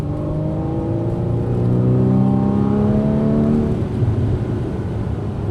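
Porsche 981 Boxster S with a six-speed manual pulling at full throttle in third gear from about 3,000 rpm, the engine note climbing steadily for about four seconds and then easing off, close and loud inside the cabin.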